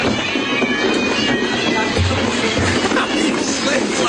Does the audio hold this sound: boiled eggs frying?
no